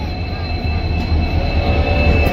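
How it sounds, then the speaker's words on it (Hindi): A passenger train approaches on the Hansi–Rohtak rail line in India, a steady loud rumble with a faint high whine, growing slightly louder over a few seconds. "पैसेंजर ट्रेन आती हुई, हांसी की तरफ आती हुई।"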